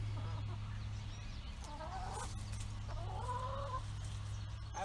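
Chickens cluck near a backyard coop in short bursts, close and moderately loud, over a steady low hum in the background.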